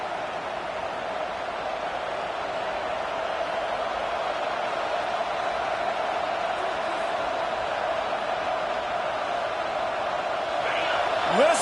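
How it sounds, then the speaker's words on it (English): A football stadium crowd roaring on third down, a broad steady wall of noise from a huge distant audience, with a commentator's voice over it. "Listen to this crowd just shaking the girders of this place trying to help their defense."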